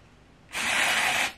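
Dry shampoo sprayed from an aerosol can onto freshly washed hair gives one steady, close hiss lasting just under a second, with no talking.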